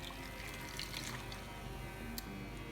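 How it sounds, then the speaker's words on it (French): Liquid poured into an ultrasonic ionizer while preparing liposomal vitamin C, a soft steady trickle and splash running close by throughout, with a brief brighter splash near the end. "je vais le verser dans le ioniseur"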